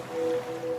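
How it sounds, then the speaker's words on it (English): An ocean waves sound effect from a laundry detergent advert forms a steady washing hiss, with a faint sustained tone running underneath throughout. "now you're drifting asleep to the scent and sound of waves"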